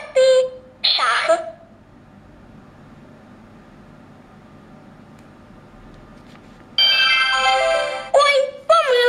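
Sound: telephone ringtone in children's alphabet cartoon game

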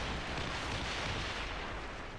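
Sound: bombardment gunfire in a video game

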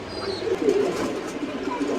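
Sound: pigeons cooing

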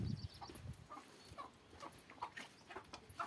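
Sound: chickens clucking while being chased

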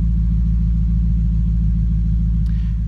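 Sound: car exhaust rumbling after cold start

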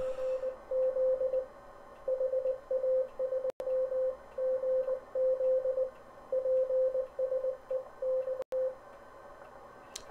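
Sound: Morse code signal on a radio receiver

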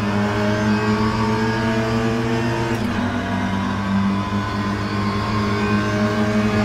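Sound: Mini Cooper S MK1 engine revving with heel-toe, video game rFactor 2

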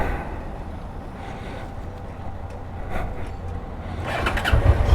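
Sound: Honda Transalp motorcycle riding

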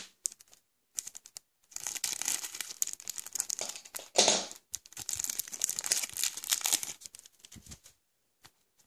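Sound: opening LEGO Transformers trading card packets

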